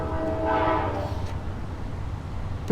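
A train horn sounds close and loud, one sustained tonal blast fading after about a second, leaving rolling rail rumble and a faint click at the end, with no voices.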